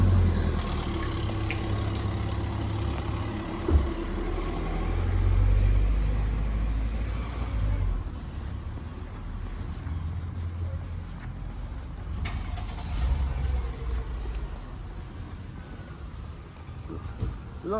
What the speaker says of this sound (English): cars coming down.